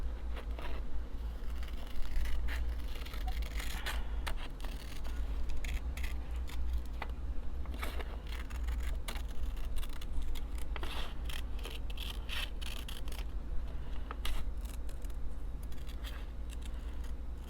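Scissors snip paper sticky notes for a reading journal, a steady series of close, crisp cutting clicks and rustles over a low background hum, with no speech.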